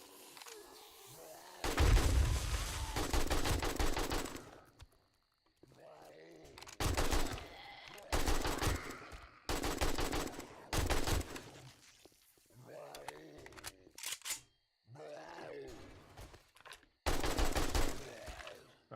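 Bursts of gunfire in the 7 Days to Die video game, loud volleys firing in several separate clusters with gaps between them, while a person talks in the pauses.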